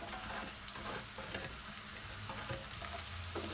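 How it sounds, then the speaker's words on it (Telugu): Finely chopped cabbage frying in oil seasoned with tempering and ginger-garlic paste, a soft continuous sizzle with faint stirring and crackle, fairly quiet and close. "ఇలా సన్నగా తరిగి పెట్టుకున్న క్యాబేజీ దీనిలోకి"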